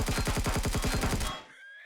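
Automatic weapon firing in Empyrion Galactic Survival inside an abandoned factory, a fast burst of about a dozen evenly spaced shots that stops abruptly, leaving a faint ringing tail.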